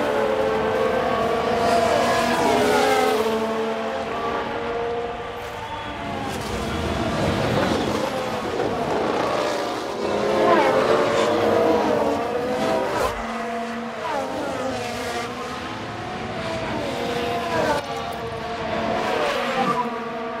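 Formula 1 race cars, among them a McLaren, scream past in an F1 video game, their engines rising and falling in pitch as they overtake, with tyre squeal and shifting engine notes over a long stretch.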